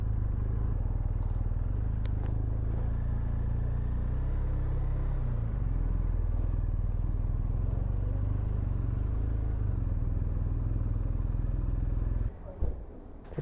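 BMW R1250R motorcycle riding, a loud steady engine drone with low rumble and shifting pitch as it pulls along, fading out abruptly at the end.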